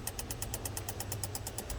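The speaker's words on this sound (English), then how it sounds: "Relay noising here, relay noising here outside engine side" Rapid, regular clicking from an ETCS relay in a Honda CR-V or Civic that won't start, a faint, evenly spaced chatter of about seven clicks per second over a low engine-bay hum.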